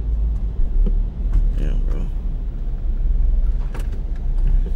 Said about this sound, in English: My fault, I had to try to pull this car up in here